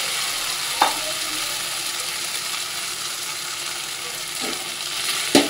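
Fish head and washed mung dal frying together in cooked-down spices in a pan, a steady soft sizzle throughout with a few brief clinks or stirring knocks, close and alone without talk.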